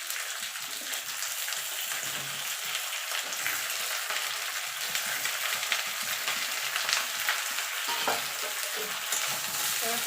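Onion, eggplant and mixed vegetables fry and get stirred in a pan, a steady close sizzle with scraping stirs running throughout, no voices.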